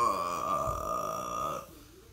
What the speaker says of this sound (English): It's not polite to burp without saying excuse me.